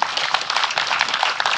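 Audience applause at the 34th general meeting of the Yujong society, held at Jirye Art Village, as a new guest is welcomed. Dense, steady clapping from a room full of people, with no voices over it.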